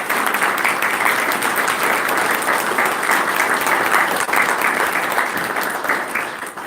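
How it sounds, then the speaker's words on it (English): Sustained, even applause from a conference audience greeting panelists at a tourism and investment event, loud and dense throughout with only a slight easing at the end. "give a very warm round of applause to our panelists"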